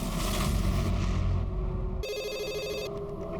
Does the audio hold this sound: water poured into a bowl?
no